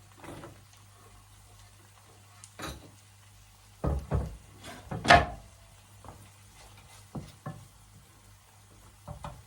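Garlic, shrimp and onions cook in a pan with soft sizzling, broken by scattered clacks and scrapes of stirring utensils, a couple of sharper knocks standing out, all fairly close and quiet.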